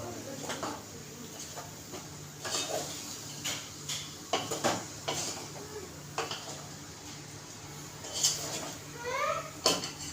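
A spoon stirs puran filling of lentils and jaggery in a pan on the stove, giving soft scrapes and light metallic clinks at an uneven pace over a steady low background hum.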